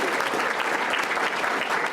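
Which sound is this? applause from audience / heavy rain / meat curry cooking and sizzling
applause from audience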